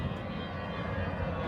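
A fixed-wing airplane flies overhead, its engine a steady, faint broadband drone that holds evenly throughout with no talk.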